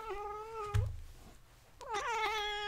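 A black cat meows twice, each a drawn-out harmonic cry, with a brief thump between them; the sounds are close and moderately loud in a quiet indoor room with no talking.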